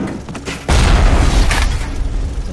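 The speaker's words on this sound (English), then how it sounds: "It's a freaking turret that shoots rockets!" A rocket-firing turret in the video game BioShock, a sudden heavy boom that rolls into a sustained roaring blast and rumble, loud and close.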